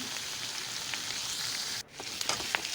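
Chopped green chillies and spices fry in a pan for chilli gobi, a soft, steady sizzle that dips briefly before a few light stirring clicks.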